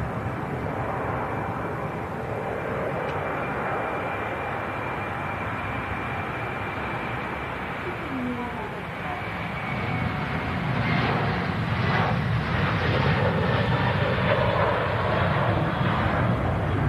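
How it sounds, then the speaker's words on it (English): An Aer Lingus Airbus A330-300 airliner passing, a steady broad jet-engine roar at moderate distance that swells slightly toward the end. "Aer Lingus A330-300 series."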